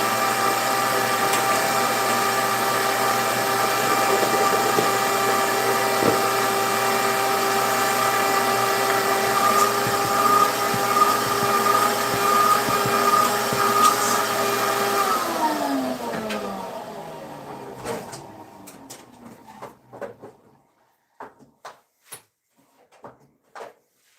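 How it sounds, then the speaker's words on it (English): A vacuum cleaner runs in a woodworking workshop during sanding of scrap offcuts, a loud steady whine for about fifteen seconds before it powers down with a falling pitch, followed by a few scattered clunks and taps. "A quick little vacuum break, guys."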